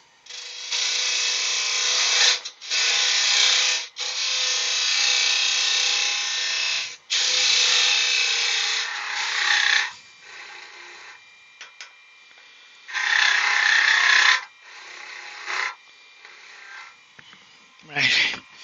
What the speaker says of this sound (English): So we'll get our spindle gouge again. And we'll remove some of this timber.